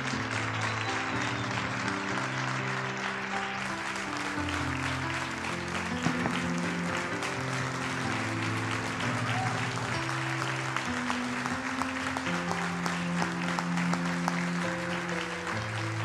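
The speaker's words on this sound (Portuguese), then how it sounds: "vamos aplaudir o Senhor Jesus pela vida delas." Church congregation applauding steadily throughout, a dense wash of clapping over sustained organ or keyboard chords, with a few voices faintly mixed in.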